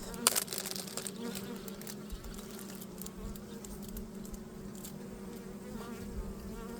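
Honeybees buzz steadily inside a cheap mini mating nuc, a close, continuous hum with a few sharper wingbeat bursts at the start and no talking.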